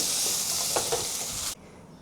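Chicken with garlic and onion sizzles and hisses steadily in a hot stir-fry pan, with a couple of faint stirring knocks, then the sizzle cuts off abruptly, close and without talking.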